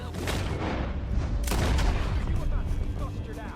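Loud gunfire from a Red Dead Redemption 2 shootout cracks and booms in a close flurry of shots, with game voices and shouting mixed in.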